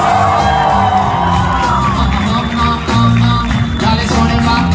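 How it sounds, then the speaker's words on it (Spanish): A live audience at a freestyle rap improvisation comedy show in Mexico City cheers, whoops and shouts loudly and continuously, with booming music underneath. "Un aplauso para el Valles y para Maritea."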